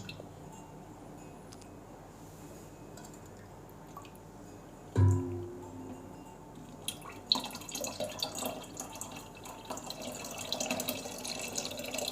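Liquid is poured into a container while a Rasna fruit drink is being made, a soft continuous trickle that grows busier and splashier after a faint thump midway, with no one talking.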